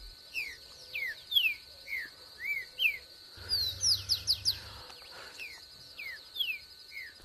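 Chopí birds call in the wild in Entre Ríos, Argentina, giving a steady run of bright, repeated chirps and whistled notes at moderate distance, with other birdsong and a faint low hum behind them.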